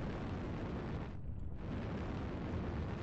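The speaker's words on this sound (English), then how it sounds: "Artillery strike online" Artillery strike explosions in MechWarrior Online, a continuous loud, roaring rumble of blasts that holds steady across the whole stretch, with a brief dip in the upper hiss midway.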